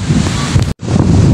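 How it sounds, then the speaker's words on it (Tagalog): Big ocean waves roar under strong wind buffeting the microphone during heavy rain, a loud continuous wash broken by a brief dropout before the surf and gusts resume. "Ayun guys, malalaki pa rin po yung alon"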